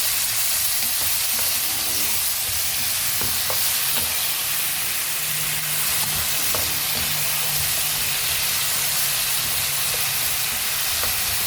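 Chicken wings fry in a pan as sauce is added, giving a steady loud sizzle with occasional sharp crackles and pops, close and without talk.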